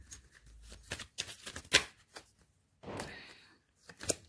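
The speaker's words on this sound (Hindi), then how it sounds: "मैं एक बार और शफल करती हूँ" Tarot cards being shuffled by hand in short bursts of riffling and flicking, close and fairly soft, with brief pauses between shuffles.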